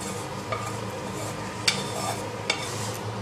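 Onion is stirred into dried bulgur in a pan, making a steady soft sizzle with a few light scrapes and clinks of a utensil against the pot, no voices.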